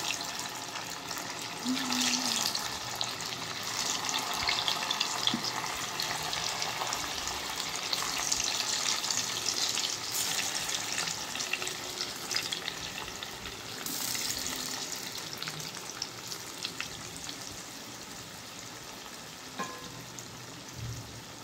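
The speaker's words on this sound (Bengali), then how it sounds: "তারপর এটাকে মিডিয়াম আঁচে ভাজতে হবে।" Sesame and palm pitha fry in oil over a medium flame, giving a steady, close bubbling sizzle that runs without pause and without voices.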